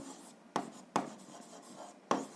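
Writing on a board during a 7th-grade algebra lesson gives soft scratchy strokes punctuated by three sharp taps as the writing tool strikes the surface, close and isolated without speech.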